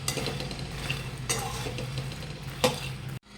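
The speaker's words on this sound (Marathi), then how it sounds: "त्याला असंच भाजून घ्यायचं आहे पाच ते सहा मिनिट छान भाजायचं त्याला" Makhana (fox nuts) are dry-roasted in a pan, giving a steady close rustle and scrape as they are stirred, with a few sharper knocks before the sound cuts off abruptly.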